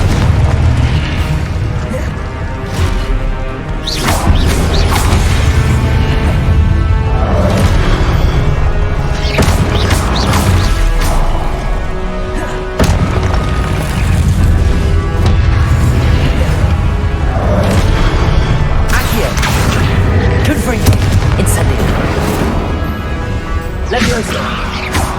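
Confringo blasting spells go off again and again in Hogwarts Legacy, heavy booming explosions that come in waves over a constant loud, dense roar of combat noise.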